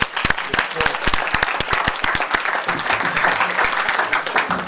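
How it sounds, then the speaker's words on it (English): Audience members at a school board meeting clap for recognized students and teachers, the sharp individual claps close and dense, building into fuller applause with some murmuring voices underneath. "Give them a round of applause as well."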